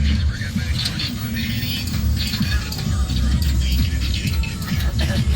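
Steady road traffic in Cebu City rumbles throughout as a dense, continuous wash of car engines and passing vehicles, with low mechanical noise and occasional rattles filling the scene.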